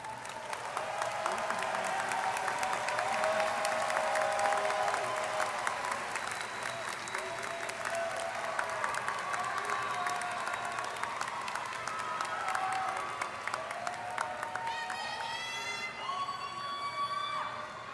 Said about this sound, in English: give a round of applause to your parents